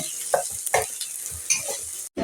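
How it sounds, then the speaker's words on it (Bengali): Onion frying in hot oil with cardamom, cinnamon, garam masala and salt, close-up bursts of sizzling and stirring scrapes in an uneven rhythm, then a brief drop to silence before the sizzle resumes. "গরম মশলা এলাচ দারচিনি স্বাদ মতন লবণ আর পেঁয়াজটা লাল করে ভেজে নেব"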